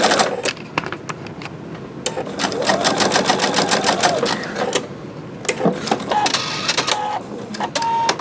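A Husqvarna Viking Designer Diamond sewing machine runs in quick, whirring stitching bursts with clicking mechanical starts and stops, close and clear.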